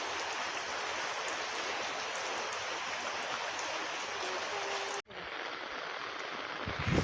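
Steady rain falling during a flood season, a dense, even hiss that continues throughout, with a brief dropout partway and a soft thump near the end.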